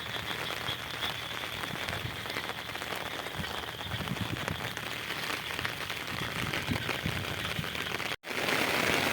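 Rain falling steadily over farm fields being ploughed by tractor, a dense even hiss of drops on surfaces that stays constant throughout, briefly cutting out near the end.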